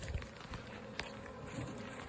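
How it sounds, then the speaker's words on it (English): Bees buzzing faintly and steadily, with a few soft knocks and taps over the low, continuous insect drone. "Bees. My talent is bees."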